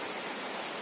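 Rain heard from inside a roadside hut makes a dense, steady hiss with no pauses, loud and close throughout the short stretch.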